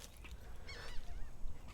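Honking, goose-like bird calls ring out outdoors in a remote wild area, a short run of harsh calls rising over steady background noise at moderate distance.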